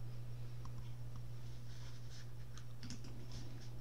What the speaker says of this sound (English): Type Y and press enter.